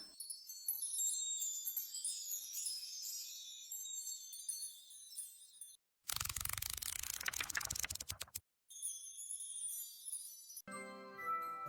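AI-generated sparkling high celestial chimes tinkle and shimmer, broken by a burst of noisy clatter, then the delicate chiming returns with a bright tonal melody.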